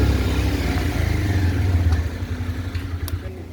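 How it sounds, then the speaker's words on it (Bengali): A motorcycle engine rumbles steadily while riding on Pareshnath Hill, with a low droning hum and some rattling clatter, fading slightly toward the end. "বাইকের সামনে যাচ্ছে রন নদীর, আমি মাঝখানে, পিছনে আসছে মিন্টু।"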